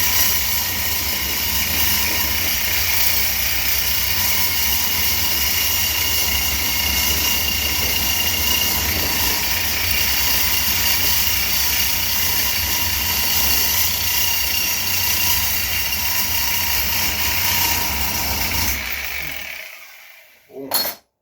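A sawzall reciprocating saw cuts metal for Camaro clutch pedal brackets with a loud, continuous buzzing whine for about twenty seconds, then winds down and stops abruptly.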